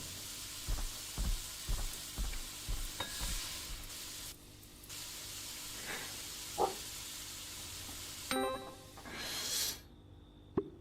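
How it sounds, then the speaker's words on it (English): Eggs fry in the video game Creature Kitchen, with a string of sharp taps and stirring clicks, then bursts of hissing sizzle rising and cutting off over a quiet background. "Man, frying stuff."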